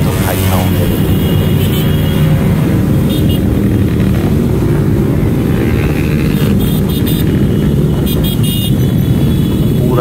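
Dense, steady engine roar from a crowd of motorcycles on a road during a Victory Day bike rally, with scattered horn toots; continuous and loud throughout, no clear talk.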